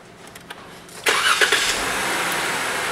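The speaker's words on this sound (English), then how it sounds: "Turn on the engine one more time then." A car engine is cranked after a quiet pause with faint clicks, catching abruptly into a loud, steady idle that holds to the end.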